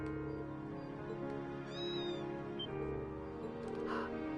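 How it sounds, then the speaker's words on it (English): A cat meows a few times in Trails of Cold Steel III, drawn-out plaintive cries over a droning musical background, fairly close and clear. "That's the sound of a kitty."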